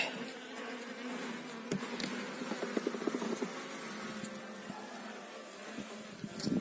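Honeybees at an open hive with brood produce a steady, close, dense buzzing hum, with occasional louder passes and light handling knocks.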